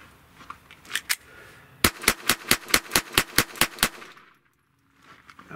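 A Glock G44 pistol fires at a shooting range, two early shots and then a quick rhythmic string of about ten sharp, loud reports in rapid succession, followed by quiet.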